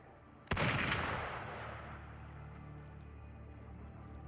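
A single sharp gunshot in the video game Wuthering Waves cracks out loud and close, then trails off into a long, rumbling decay over steady background noise.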